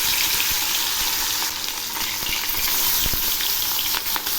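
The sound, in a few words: fish pieces frying in hot mustard oil in a wok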